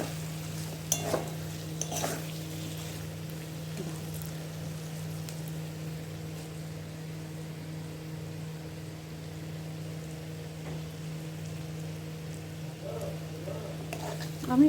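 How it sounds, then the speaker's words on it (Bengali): A potato pulao mixture is stir-fried in a pan, with soft scraping and stirring strokes and faint sizzling over a steady low hum. A few sharper utensil knocks rise near the start and the end. "এবার এটাকে ভালো করে কষিয়ে দেবো আর একবার।"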